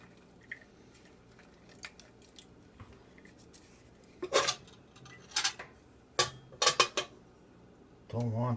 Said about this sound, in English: Now I'm going to just add the rest of the potatoes.